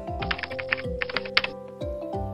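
Commands are typed on a computer keyboard in a command prompt, with rapid, close, clicking keystrokes in uneven bursts over a soft, steady background tone.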